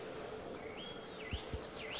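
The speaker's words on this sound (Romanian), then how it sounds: "E liniște, nu se aud mașini, nu claxoane, doar păsări." Birds sing faintly in the quiet open air at Rohia monastery, a few thin rising and falling whistled calls over soft background hush, with a couple of brief low thumps.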